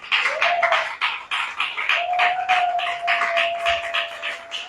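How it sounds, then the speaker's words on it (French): A church congregation at a Sunday service claps in quick, uneven bursts of applause, with a long sustained tone running underneath. "Est-ce qu'on peut donner une offrande d'acclamation à Jésus ce matin?"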